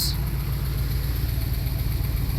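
A Mercedes M117 4.2-liter V8 runs at a steady idle on an ECU test setup, a close, even low rumble with a fast regular pulse and no voices.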